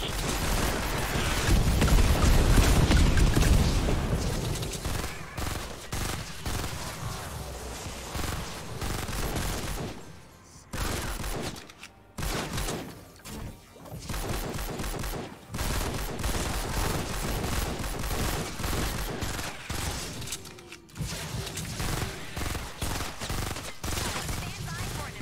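Airstrike explosions and rapid gunfire in Fortnite: Save the World fill the scene, with a heavy booming burst early on, then dense, continuous firing and blasts broken by a few short lulls, mixed with game sounds and a player talking.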